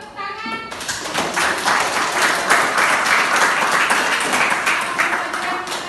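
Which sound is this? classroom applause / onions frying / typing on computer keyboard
classroom applause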